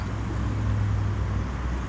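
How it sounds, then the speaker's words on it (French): A parked car's engine idles steadily in a motorhome service area, with a low constant hum and rumble that holds evenly throughout, loud and close, with no talk. "Climatisation, musique et moteur qui tourne."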